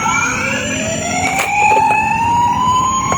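Toy ambulance siren, a loud electronic wail with bright tones sliding steadily upward, plus a few short clicks and taps partway through, playing close by with no talk over it.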